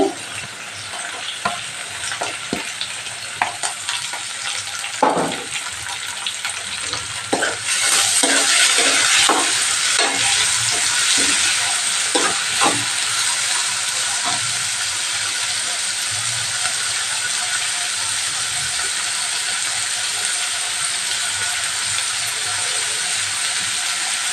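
Onions fry in a pan for prawn curry, a continuous close sizzle with scraping stirring strokes and clatters early on, then a steady hiss.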